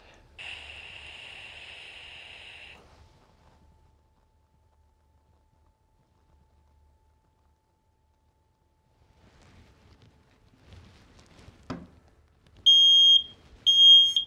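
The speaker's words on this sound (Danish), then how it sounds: "Ja, så er der altså alarm på igen." A NOUS smart smoke detector sounds a shrill, piercing alarm tone, first as a steady burst of a few seconds, then after a quiet gap and a brief click as a series of short, loud beeps.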